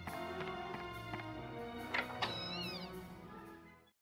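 A kitten character in a video game gives a series of high, tuneful meows, clear and close, over soft background music that fades out at the end.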